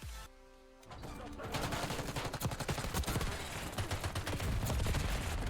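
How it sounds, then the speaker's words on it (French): Rapid gunfire in a video game comes after a short quiet start, then runs as dense, fast bursts of shots that keep getting louder and continue to the end. "J'ai mal au doigt quand je tire."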